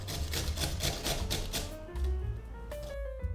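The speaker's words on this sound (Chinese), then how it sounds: "洗干净之后，把萝卜擦成丝。" About 1250 g of washed green radish being shredded on an old-fashioned hand grater, giving a steady run of rhythmic rasping strokes that fades near the end.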